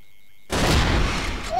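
A burst of gunfire from the online shooter game Crossfire kicks in after a brief silence, loud close shots with a continuing sharp crackle.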